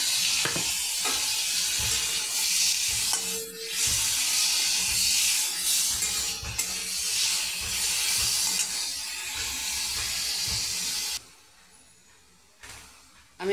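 Grated ginger, garlic and onion frying in hot oil in a wok, a loud steady sizzle with stirring scrapes and clicks that drops abruptly near the end to a faint hiss.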